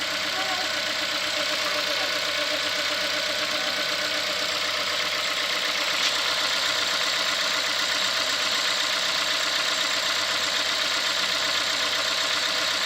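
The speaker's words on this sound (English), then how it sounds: "And that's how the engine sounds when it's running." A 2016 Ford Fiesta with a 1.6-litre four-cylinder engine, about a year old with roughly 20,000 miles, idles normally in a steady, even drone with no talk over it.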